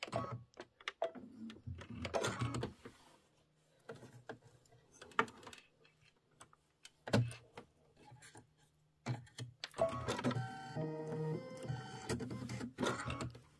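A domestic sewing machine set to a short 1.8 stitch length runs in stop-and-start bursts of rapid mechanical whirring and ticking, with quiet handling noises between runs.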